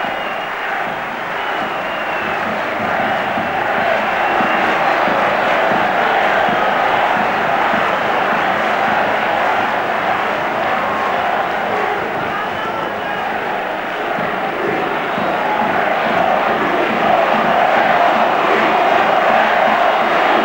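A home crowd in a football stadium during a Champions League match between Deportivo La Coruña and Milan, producing a steady, dense roar of cheering and chanting that swells slightly, with a commentator talking over it.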